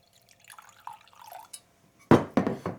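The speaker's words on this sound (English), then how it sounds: "Add a splash of water." A short splash and trickle of water poured into a glass sourdough starter jar, close by, following a few faint clinks and shuffles.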